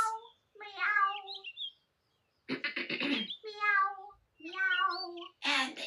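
A cartoon cat's meows in an animated story, a few high, tonal calls separated by short pauses, alternating with close, clear voices speaking between them.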